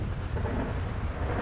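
Continuous low rumbling thunder with steady rain from a lightning storm in GTA 5, loud and unbroken throughout with no distinct separate claps.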